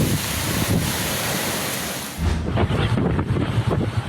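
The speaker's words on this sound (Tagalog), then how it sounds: "dahil sa lakas ng hampas ng alon sa Denrica Garchitorena, Camarines Sur" Strong surf crashes against a beach at Garchitorena, Camarines Sur, during Super Typhoon Uwan, a steady loud roar of breaking waves with heavy wind buffeting, then sharper surges and splashes near the shore.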